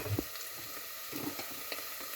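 Chopped ingredients sauté in a hot pan with a soft, steady sizzle and occasional stirring scrapes, fairly quiet and with no talking.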